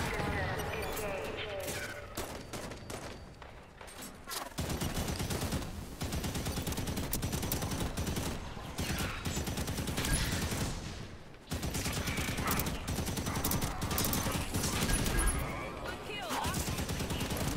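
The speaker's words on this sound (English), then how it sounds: "Man, this is a good gun." Gunfire from a gun in the video game Halo 5: loud, dense bursts of rapid shots repeat throughout, broken by two brief pauses, with speech heard intermittently.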